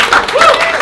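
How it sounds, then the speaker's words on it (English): Comedy club audience clapping for comedians leaving the stage, a loud dense burst of applause with a voice speaking over it. "Clap it up for them."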